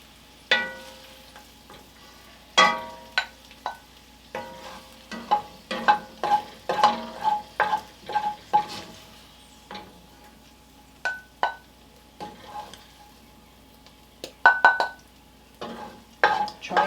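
A slotted spoon scoops caramelized onions and bacon out of a pan into a bowl while making soup, giving close, irregular metallic clinks and scrapes in bursts, with short quiet gaps between them and no talking.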